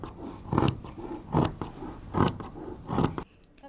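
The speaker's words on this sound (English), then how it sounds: "Next, I need to cut one more pair of the side details." Scissors cut fabric pattern pieces for a blouse in a close, regular rhythm of about six crisp snips, each a short crunchy burst, before falling silent at the end.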